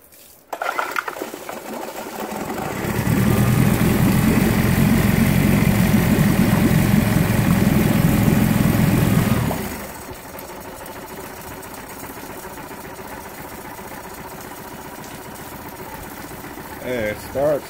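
A 9.9 hp four-stroke outboard engine with a freshly rebuilt carburetor starts and idles with a steady, even hum for several seconds, then drops to a quieter idle.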